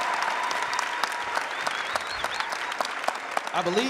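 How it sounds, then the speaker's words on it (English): Audience applause in a chapel service for the Ovation Gospel Group; sustained, even clapping from a crowd, with a voice beginning to speak near the end. "Can we give them another round of applause, please?"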